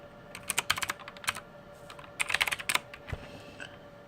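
Bursts of computer keyboard typing entering an object name, quick clustered keystrokes in two runs with a few isolated taps, close and clear with no talking.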